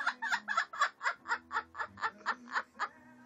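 A pet parrot vocalizes close up in a quick, rhythmic string of about a dozen clucking, chuckling calls, loud and alone.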